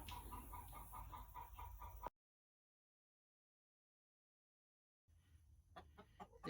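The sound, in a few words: hen clucking in nesting box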